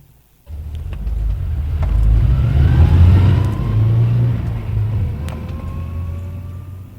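A car starts moving after a brief quiet moment, its mid-pitched engine rumbling and revving up, then holding a steady drive close by with no talk.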